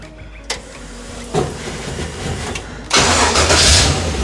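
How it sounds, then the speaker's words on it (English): A Toyoace Mini Mog fitted with an LS1 engine cranks through a few starter bursts, then catches and fires up into a loud, steady running roar nearby. "We're going to try and drive this out there, try and not run Aiden over."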